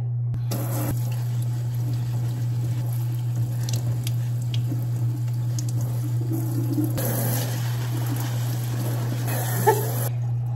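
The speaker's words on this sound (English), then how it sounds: "I could like spray water sideways at it." Water hisses and splashes in a sink over a steady low electrical hum, spray starting and stopping, sprayed sideways at a houseplant, close by with no talking.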